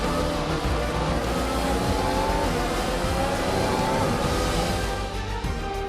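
A Formula 1 race car engine in the F1 2021 video game screams loudly and continuously at high revs through the final corner, with faint tire noise and no talking.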